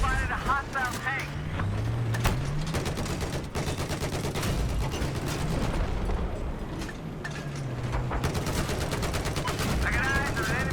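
Rapid bursts of machine gun fire and scattered gunshots from a military shooter video game crackle steadily throughout, with a voice talking over the action.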